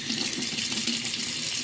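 Cold water runs steadily from a tap into a sink in an even, hissing stream, close and continuous with no talking.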